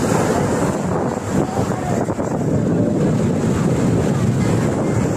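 Sea waves and strong wind at a beach in the rain, a loud, dense, continuous roar of surf mixed with gusty wind buffeting the microphone.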